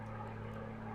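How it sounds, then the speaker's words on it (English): Propeller engine of an aerobatic aircraft performing a tail slide at an aerobatics championship, a steady loud drone with strong low harmonics, continuous and unbroken throughout. "The idea is to make the aircraft slide backwards and then fall forwards."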